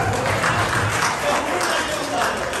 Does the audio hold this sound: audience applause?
yes